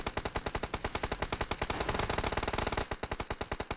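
Rapid automatic gunfire in the battle royale game BGMI, a loud sustained burst of evenly spaced shots that briefly thickens into denser fire before settling back to a steady rattle.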